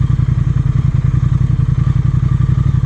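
Steady, loud engine drone of a Triumph Thruxton R motorcycle being ridden, a low pulsing rumble heard close up and continuously without speech.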